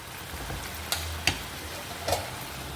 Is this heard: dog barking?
no